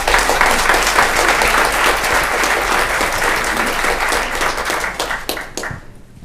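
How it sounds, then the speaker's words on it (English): Loud, sustained audience applause at a county board of commissioners business meeting, many hands clapping close and dense for several seconds before thinning into a few scattered claps and stopping. "So I just want you all to give her another round of applause."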